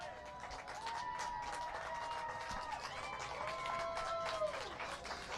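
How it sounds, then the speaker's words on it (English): Crowd at a harness racing track roars and applauds for the winning horse Go-Go Gadget, a steady dense wash of clapping and cheering throughout with a voice carrying over it. "Big roar and round of applause for Go-Go Gadget"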